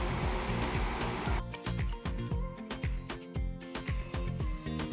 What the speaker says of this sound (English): Next, you're going to take it to the sewing machine. You stitch it down